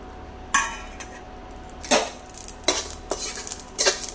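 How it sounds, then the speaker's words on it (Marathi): A spatula scrapes and clatters inside a kadhai as coriander seeds, dhondphool, cumin and sesame are dry roasted, giving about five sharp stirring strokes at irregular intervals against a quiet background. "धने, धोंडफूल, जिरे आणि तीळ पहिल्यांदा भाजून घेऊया"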